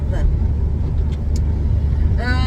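Steady low engine and road rumble from inside a moving car, continuous and fairly loud throughout, with faint voices in the background.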